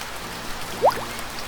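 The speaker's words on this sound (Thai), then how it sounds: "ฝนตก" Rain falls in Sophia the Traveler, a steady soft hiss of drops on surfaces that runs throughout, with one brief rising chirp near the middle and no talking.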